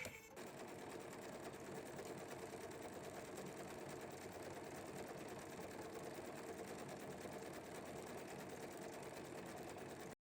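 A sewing machine runs steadily for about ten seconds, stitching a free-motion quilting pattern of small trees between marked lines, a continuous close whirring hum with no pauses.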